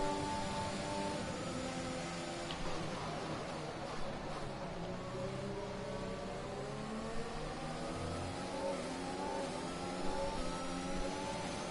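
A Formula 1 car engine in F1 2021 at the Hungary circuit on a wet track, revving steadily with rising and falling pitch through gear changes, a continuous close drone.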